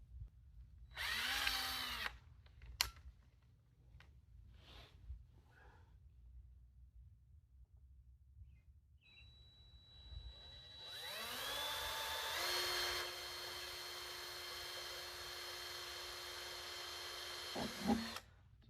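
A power drill boring a pilot hole for a seat and bulkhead adjustment on a Zet Ninja 2 kayak, heard as a short burst followed by a longer, steady whining run that winds down, close by with no talk.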